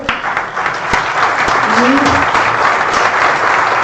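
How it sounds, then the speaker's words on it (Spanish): Loud, sustained applause from a congress audience, steady dense clapping throughout with a few sharper claps and brief murmurs of voices underneath. "yo quiero pedir un fuerte aplauso para quienes nos han acompañado y los han recibido"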